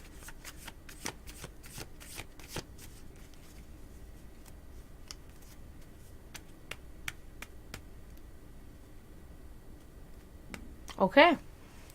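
A deck of cards is shuffled during a psychic reading, a run of crisp riffling snaps spaced over several seconds, with a short voice near the end.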